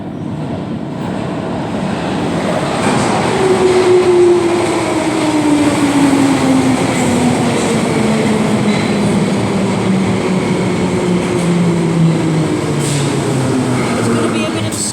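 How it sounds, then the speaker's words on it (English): A train pulls into a station platform with a steady rumble, and a falling whine sweeps down as it slows. A platform announcement voice speaks over the noise. "There will be another train coming in a minute."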